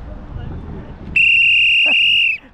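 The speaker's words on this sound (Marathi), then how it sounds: "ही शिट्टी ना एवढी कानात गुंजते पूर्ण" A loud, steady whistle is blown to rouse pilgrims on foot during a Sai palkhi procession from Diva to Shirdi, one long shrill blast of about a second cutting in over background noise and talk.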